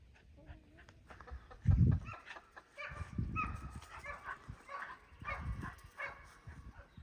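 A herding dog, a goat dog on a farm, barks while chasing goats out of a yard, giving several loud nearby barks amid other farmyard animal calls including poultry.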